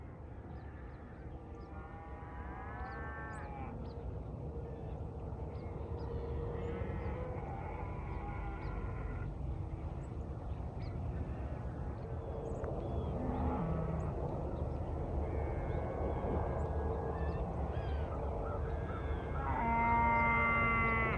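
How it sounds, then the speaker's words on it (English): A large herd of cattle coming off a river lows and bellows at a distance, with scattered calls rising over a steady rumble of windy outdoor background noise. "This is the big cow herd."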